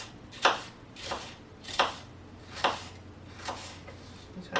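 A small paring knife chops apples for a vegan apple cake, giving about eight crisp cuts in a steady rhythm, close and clear against a quiet kitchen background.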